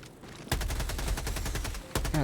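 Machine gun fire in a video game rattles out as a sustained, loud stream of closely spaced shots for about a second and a half, briefly breaking off before a fresh burst starts.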